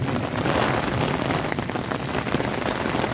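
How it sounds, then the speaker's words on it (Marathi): Heavy rain pours down outdoors, a loud, dense, even hiss of drops drumming on surfaces that continues without a break and without any voices. "मी थोडा वेळ बाहेर बसलो तर असा पाऊस पडायला लागला आहे"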